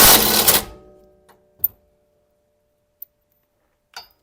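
A power tool zaps the coilover top bolt on a 2007 Subaru WRX Wagon in a brief loud whirring burst, then dies away, followed by a few sparse metallic clicks and taps in near silence.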